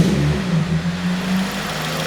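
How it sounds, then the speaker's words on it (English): A 2005 Toyota Celica VVTL-i GT starting up and settling into a steady run, close and loud, with a strong low engine hum and a brief rise in revs before holding an even idle. "start the car up"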